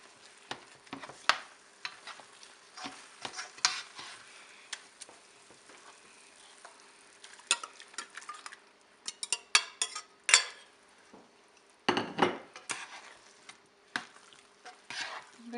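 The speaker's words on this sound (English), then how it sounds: "there are some green peas here which I am going to mash it up at the back of this ladle." A ladle presses and stirs cooked vegetables and green peas in a pan for pav bhaji, producing scattered soft scrapes and clinks of metal, with a denser burst of mashing near the end and faint sizzling beneath.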